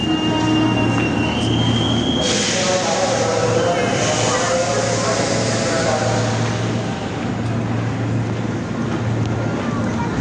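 A KRL commuter train pulls out of the station bound for Angke, its steady rumble and high wheel squeal filling the platform up close, with a voice talking over the noise.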